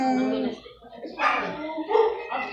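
A nervous female dog at an animal shelter whimpers and yips in short, high, wavering bursts close by, with brief gaps between cries.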